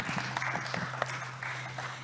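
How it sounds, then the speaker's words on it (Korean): Audience applause at a health and medical forum, a steady wash of clapping from a seated crowd at moderate level, lasting through the whole stretch with a low hum underneath. "다시 한번 박수 부탁드립니다."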